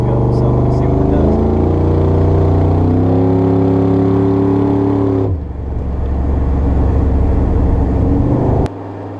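LS7 V8 engine in an S10 pickup truck accelerating on the road with the torque converter engaged, a loud sustained engine drone with rising harmonics that drops off sharply partway through, then continues rumbling steadily; a voice talks over it.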